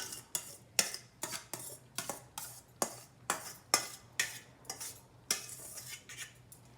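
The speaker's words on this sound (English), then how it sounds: "It's time to mix the chow mein into the mixing." Two spoons tossing strained chow mein with minced chicken in a pan, a steady series of sharp metallic clinks and scrapes roughly every half second, close and clear with no voices.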